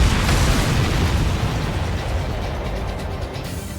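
A missile launch and explosion in the Ace Combat 7 flight game, heard as a loud, broad, rushing blast that slowly fades into a sustained roar with no talk over it.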